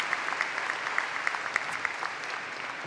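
A commencement ceremony audience gives honorary degree recipients a short round of applause, soft and distant with scattered individual claps standing out.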